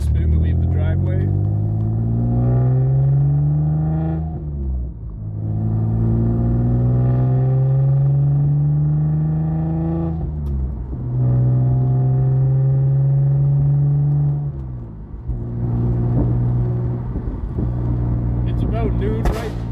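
Car leaving a driveway with brief wheel spin, heard from inside with windows up: repeated rising engine revs through several gear pulls, loud and close, with someone talking over it.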